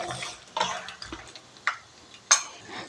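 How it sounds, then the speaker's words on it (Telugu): Peanuts frying in oil for murmura chivda: a quiet sizzle broken by several sharp stirring scrapes and clinks against the pan, close and alone. "ఇవి కూడా చక్కగా గోల్డెన్ బ్రౌన్ కలర్ వచ్చే వరకు ఫ్రై చేసేసుకోవాలి."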